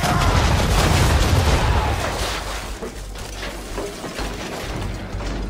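Ship cannons roar in a naval battle in Assassin's Creed 3, a heavy, loud volley with rumbling booms and crackling bursts up front that slowly subsides into scattered mechanical rattles.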